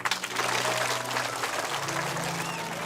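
A crowd claps in sustained, dense applause that stays loud and even throughout, with faint voices mixed underneath.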